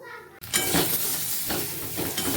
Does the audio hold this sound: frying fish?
yes